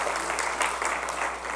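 An audience at a church testimony gathering breaks into applause, a dense, even patter of many hands clapping, fairly close and alone without talk.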